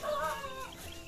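A chicken at a rural house clucks once, close and fairly loud, in a short rising call with no talk over it.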